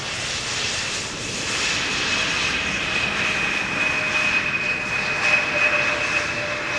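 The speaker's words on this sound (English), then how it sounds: "Still a very polished landing." An airliner coming in to land at Amsterdam Schiphol Airport, a loud sustained jet engine roar with a steady whine, rising slightly toward the end, with no voices.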